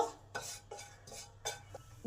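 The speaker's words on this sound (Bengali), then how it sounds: "এই জিরে আর শুকনো লঙ্কাটাকে একটু ভালো করে ভেজে নেব" Cumin seeds and a broken dried chilli frying in oil in a pan, heard as a series of short scraping stirs and soft clinks against the metal, quiet and close with faint crackle between.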